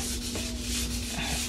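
Hand wet sanding of a repainted rear mudguard on an Infiniti G35 coupe with 400 grit paper gives a steady, close rasping rub in quick strokes, with no talking.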